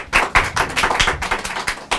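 Audience applause at a children's group concert: a short burst of scattered claps from a small crowd, irregular and close, with no voices over it.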